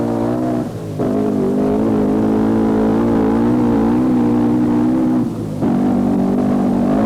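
The V8 of a Triumph TR7 rally car howls loudly on a rally stage. The engine revs hard, with two brief dips where it shifts gear before climbing back to a steady roar.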